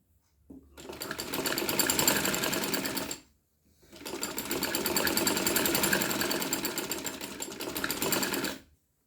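A sewing machine stitches dori piping onto the side slits and hem of a kameez, two long steady runs of fast whirring stitching separated by a brief pause.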